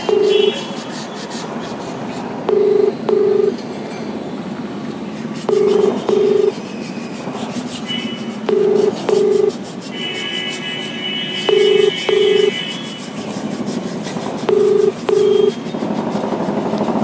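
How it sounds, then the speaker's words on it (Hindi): A phone line rings out unanswered during a call, giving pairs of regular ring tones about every three seconds over a dull, rumbling background hiss. "फोन रिसीव नहीं किए, मैं एक बार फिर लगाता हूँ"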